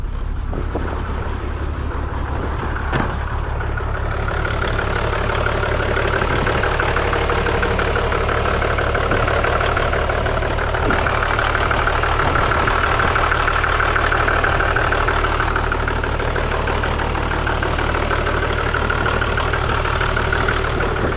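A vehicle engine catches and settles into a steady, low idle that runs unbroken and close, with a constant rumbling drone and a faint rattle throughout.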